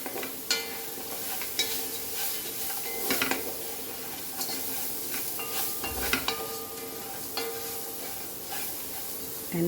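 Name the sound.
ingredients roasting in pan for Goan coconut rice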